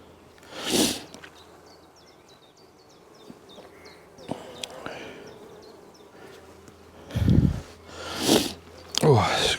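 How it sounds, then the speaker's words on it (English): A beekeeper sniffles a few times while inspecting a hive in a woodland apiary. The short nasal bursts come up close, with bees buzzing faintly in the background. "Oh, excuse me, sniffle,"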